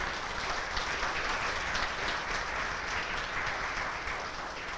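A church congregation gathered in a small-group meeting applauds, a continuous, even wash of many hands clapping at moderate volume that holds steady for about five seconds.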